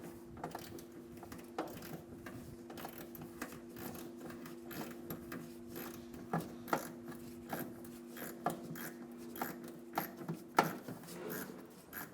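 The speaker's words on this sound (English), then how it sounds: "Using a 10mm socket, we're going to loosen the clamp on the filler neck." Ratchet with a 10mm socket loosening the fuel filler neck clamp on a 2000-2006 Toyota Tundra, making quiet, repeated mechanical clicks over a steady low hum, with no talk.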